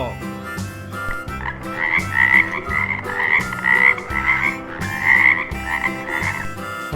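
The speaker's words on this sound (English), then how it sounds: "Wow, frog, sweet frog." A frog croaks in a steady, rapid repeating rhythm, loud and close, over a continuous musical backdrop.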